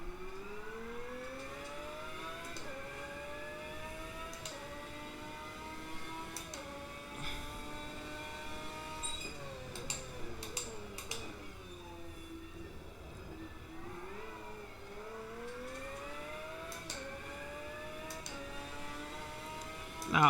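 A Lamborghini GT1 race car from the 2005 season in the Automobilista 2 racing game, its engine note rising through the gears in repeated climbing sweeps, dipping on downshifts under braking, steady and sustained with no voices.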